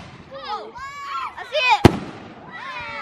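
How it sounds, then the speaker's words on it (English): Fireworks bursting outdoors at a family fireworks celebration: whistling, crackling rising shells, then one sharp close bang, with people's voices mixed in. "You hear fireworks everywhere."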